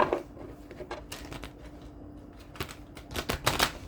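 Crisp riffling bursts of a deck of cards being shuffled close by, several quick flurries separated by brief pauses.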